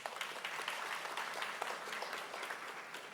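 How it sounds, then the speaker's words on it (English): Audience applause at a Baltimore event announcing the CIAA Tournament, an even, continuous wash of clapping heard faintly throughout. "Round of applause for Brian."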